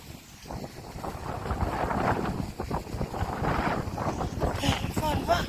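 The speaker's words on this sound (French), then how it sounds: "c'est des vents forts, celui-là" Strong gusting wind of 70 to 90 km/h buffets the microphone and lifts roof edges, a loud rumbling roar that swells and surges unevenly throughout.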